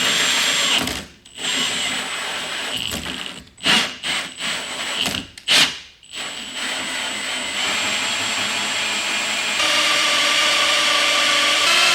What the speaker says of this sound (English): I'm gonna go ahead and drill this hole and put the draw straw as close to the Fass system as we can